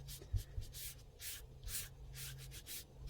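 Soft rhythmic rubbing strokes on a craft piece, a sponge or cloth worked backwards and forwards in repeated brushing swishes, close and quiet with no talk.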